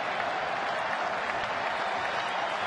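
At the Phillies home opener, a large baseball crowd keeps up a steady roar of cheering and clapping, dense and continuous throughout.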